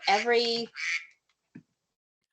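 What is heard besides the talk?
phone ringtone that quacks like a duck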